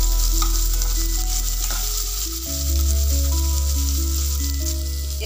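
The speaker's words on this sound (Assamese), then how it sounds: "এতিয়া আমি আদা নহৰু গোন্ধটো যোৱালৈকে অলপ মই ভাজি থাকিম।" Ginger and garlic paste sizzles steadily in hot oil in a pan, a continuous close frying hiss with a low hum underneath and no talk.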